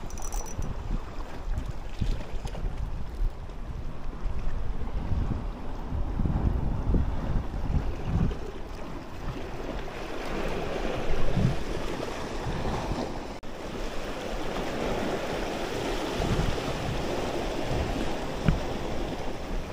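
Wind and waves wash steadily around a small fishing boat out at sea, a continuous broad rush with gusts and slaps of water rising and falling for the whole stretch, no one speaking.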